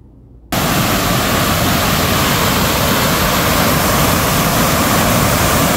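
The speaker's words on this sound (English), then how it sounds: "I want you to hear the volume of the water." Loud, steady roar of rushing water along the Erie Canal, a dense continuous wash of sound heard close and alone after a sudden start.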